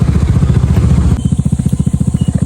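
A motorcycle engine on a steep, dangerous road near a waterfall throbs close by in a low, steady pulse, its beats growing sharper and more distinct partway through. No one speaks.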